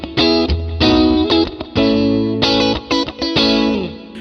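An overdriven electric guitar plays chords and short phrases through a small Deluxe Reverb tube amp, loud and close, with a gritty, slightly distorted tone.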